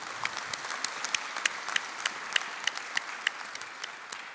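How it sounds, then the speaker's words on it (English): A hall audience claps at a university speech by its chancellor, dense applause with sharp individual claps popping out of a continuous wash, steady and fairly close, no voices over it. "let's give them an applause"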